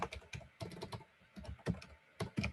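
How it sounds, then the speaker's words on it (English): Plain text typed on a computer keyboard, heard as close, clattering keystrokes in quick uneven bursts with short gaps and no voices. "for description, you can type in plain text"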